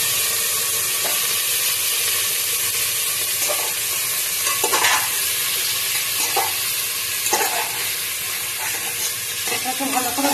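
Marinated mutton and chopped onion frying in a little oil for mutton polao, a loud, dense, hissing sizzle with occasional stirring clacks, steady from start to finish.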